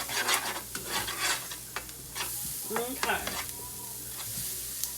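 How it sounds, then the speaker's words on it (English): Food sautés and sizzles in a pot on the stove, a steady close frying hiss with stirring scrapes, and a voice speaks briefly over it. "I'm just gonna saute this for a minute."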